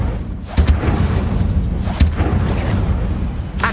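Incendio, a fire spell, is cast in Hogwarts Legacy. Loud, booming whooshes of magical fire hit in several heavy bursts over a rumbling, dense low end.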